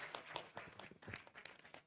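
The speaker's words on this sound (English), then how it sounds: "give the round of applause to our panel" Audience at a medical conference claps for a panel: faint, scattered hand claps in an uneven rhythm, distant and light rather than a full ovation.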